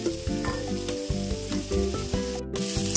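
Potatoes fry in a small amount of oil with a steady, close sizzle that runs throughout, and a tonal background hum sits beneath it.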